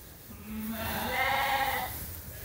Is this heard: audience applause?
no